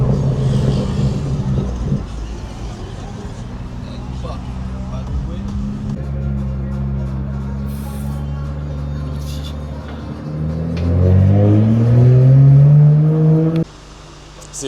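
BMW M3 engines revving, a steady drone that climbs into a loud rising rev toward the end before cutting off sharply, heard close with people talking over it.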